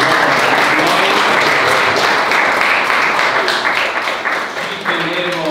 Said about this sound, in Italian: quindi un applauso per noi.